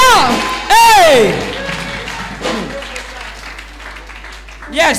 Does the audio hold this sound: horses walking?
no